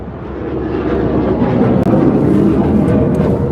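A jet aircraft passing directly overhead: a loud, steady broadband roar that swells and holds throughout, heard alone and close.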